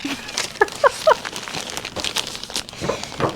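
Crinkly rustling and a few sharp tearing rips of packaging, close up, with intermittent handling noise and no speech.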